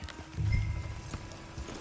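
Horse hooves clip-clop in a video game near tracks leading into a forest, a short run of close, muffled thuds with a brief swell of louder stepping early on.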